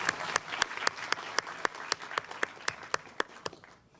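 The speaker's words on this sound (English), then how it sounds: "So I think we all need to give everyone here an applause." Applause at a city's State of the City address, a dense wash of audience clapping with one person's loud, regular claps cutting through about four times a second, tapering off at the end.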